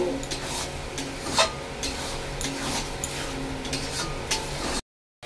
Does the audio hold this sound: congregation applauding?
no